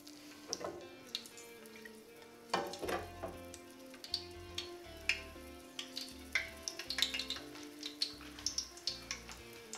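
Garlic cloves and half a scotch bonnet pepper sizzle in hot oil, a quiet steady frying hiss with scattered small pops and crackles, under a faint musical backdrop.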